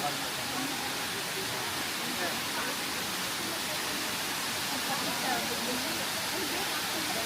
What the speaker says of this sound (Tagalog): welcome to Kaparkan Falls of Abra